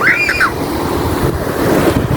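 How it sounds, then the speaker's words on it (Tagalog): Surf rolling onto a beach by a roadside in Bitaogan, heard as a steady wash of waves with wind buffeting the microphone, and a brief high whistle-like sound near the start. "Medyo maalon-alon siya."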